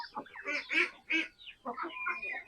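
Farmyard ducks, Muscovy ducks alongside white ducks, give a run of short nasal quacks and honks in irregular bursts, fairly close and clear.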